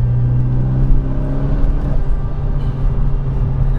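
A turbocharged Renault Megane R26 hot hatch engine with 330 bhp drones steadily from inside the cabin, a low continuous rumble with a gentle whir, cruising without big revs.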